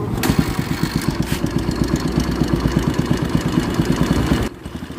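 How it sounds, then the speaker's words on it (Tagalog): A Kawasaki Barako 2 motorcycle engine with a worn top end runs at a steady, loud, rough idle with a fast regular pulse, close up, then cuts out abruptly near the end. "pagka ganyan tunog, yung top engine mga boss, medyo marami ang sira niyan kasi umuusok nga"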